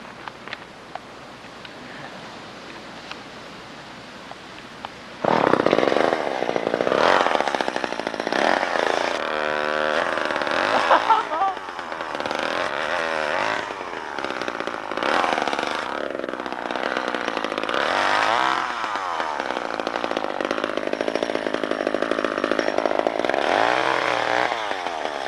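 A chainsaw cutting up wood for firewood starts loud after a quiet stretch, then runs steadily with its engine pitch rising and falling as it bites into the logs, close by and dominating throughout.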